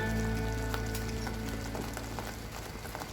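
Roadside-style mushroom masala with tomatoes frying in a pan, giving a steady, dense, close-up sizzle that runs unbroken with no voices.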